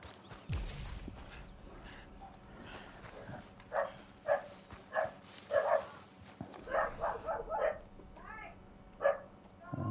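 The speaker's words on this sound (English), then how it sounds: "next door neighbour shouting at her dogs" Dogs bark in a yard next door while a neighbour shouts at them, heard in Red Dead Redemption 2; a series of moderately loud, irregular barks and yips comes in clusters over a quiet outdoor background.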